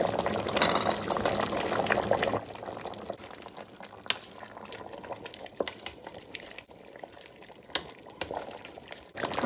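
A pot of bitter leaf soup thickened with coconut bubbles and simmers quietly, with soft liquid gurgling and scattered small pops and clicks. The sound is fairly faint and close.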